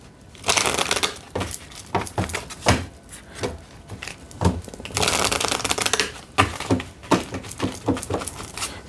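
Tarot cards are shuffled in quick riffling bursts, a rapid crisp fluttering that starts and stops several times, close and fairly loud.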